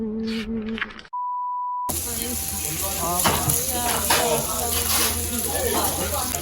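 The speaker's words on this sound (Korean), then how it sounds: "삼겹살 먹으러 왔어요" Pork belly sizzles on a grill at a Korean barbecue restaurant in Incheon, a steady crackling fry under restaurant chatter, after a brief beep and a moment of silence.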